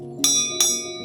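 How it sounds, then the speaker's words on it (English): A small hiking bell, carried by a walker on a forest trail in Kamikochi, Japan, rings twice in quick succession, clear and close, each strike leaving a bright shimmering ring that fades. "many hikers also carry a small bell, and their sound can be heard throughout the day."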